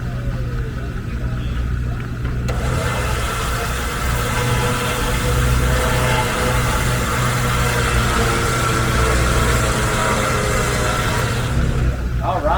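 A recovery winch pulls up an overturned trailer, heard as a loud, steady mechanical engine drone with a constant low rumble that holds throughout, under scattered voices.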